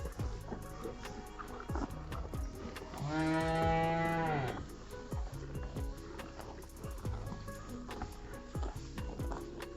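Calves in a barn eating hay, one loud drawn-out moo in the middle over steady close munching and rustling.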